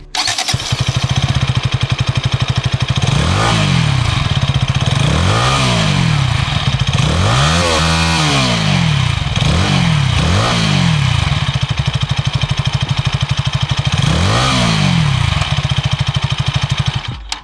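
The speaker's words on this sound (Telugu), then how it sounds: "ఈ బైక్ ఎగ్జాస్ట్ నోట్ ఎలా ఉందో ఒకసారి చూద్దాం మనం" A 2025 KTM Duke 160 motorcycle engine idles with a steady thrum, repeatedly revved in sharp rising-and-falling exhaust bursts, loud and close throughout.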